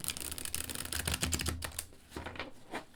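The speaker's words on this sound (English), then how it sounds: "Can you hear this swoosh sound? It is so soothing." A flexible tarot card deck being shuffled up close, its cards giving a quick run of soft swooshing riffles and clicks that thin out toward the end.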